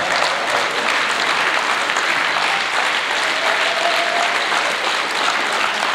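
Audience applause at a matric awards ceremony, loud continuous crowd clapping filling the hall at a steady level, with a faint tonal whistle or feedback briefly audible midway.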